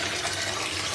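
Tap water runs steadily into a basin for a foot soak, a continuous close splashing rush with no voices.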